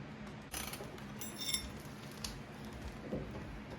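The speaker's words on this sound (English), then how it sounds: "Tighten the lock nut." Metallic ratcheting and clicking from a wrench tightening the lock nut on the rear axle of a Honda XR 150 L motorcycle, a few faint, close mechanical clicks and clinks against a low background hum.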